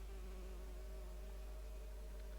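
Steady insect buzzing in the video game L.A. Noire, like a few flies droning close by, continuous and even in level with no pauses or talk.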